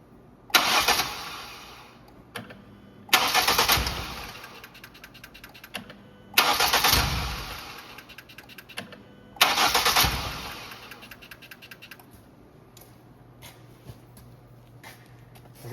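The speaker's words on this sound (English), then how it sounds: "I'll start the car and shut it off right away." A 2010 Ford Focus is cranked four times, each attempt a loud, close burst of starter churning that catches briefly and dies, separated by short quiet gaps.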